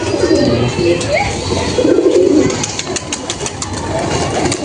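A male Fulsira Chotial Madras pigeon and its companions coo in low, throaty bursts close by, over a steady engine-like hum in the background.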